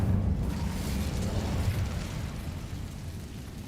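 Fiery spell burst in a wizarding video game set at Hogwarts, a low, rumbling whoosh of flame that swells loud at once and rolls on steadily, broad and booming without distinct pops.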